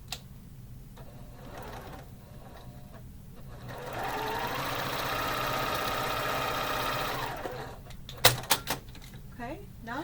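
A sewing machine stitches a quilt block seam for a patriotic block-of-the-month quilt: a steady motor whir for about three seconds after quieter handling, followed by clicks and clatter, all close by.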